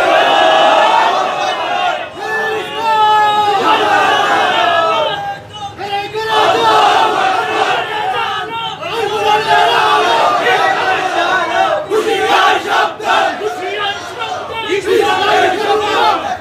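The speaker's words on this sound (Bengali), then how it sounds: "আপনারা নিজেদের কণ্ঠ ছেড়ে দিয়ে একটু তাকবীর দেন" Large rally crowd shouting Islamic takbir slogans in loud, continuous waves of massed voices, with rising and falling chant phrases filling the whole stretch and brief dips between calls.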